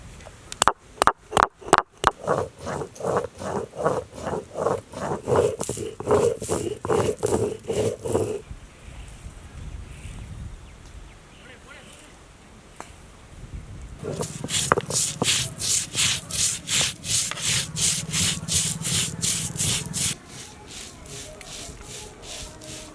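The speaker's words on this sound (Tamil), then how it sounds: "மஞ்சள் அரைக்க போறேன்." Rhythmic scraping and grinding of turmeric on a stone grinding slab in repeated back-and-forth strokes, pausing in the middle before resuming, close and fairly loud.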